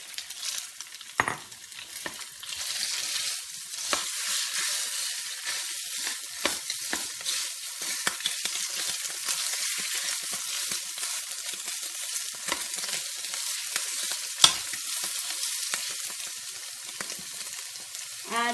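Meat browns in a little olive oil in a hot pan, giving a continuous bright frying hiss with scattered pops and stirring clicks throughout.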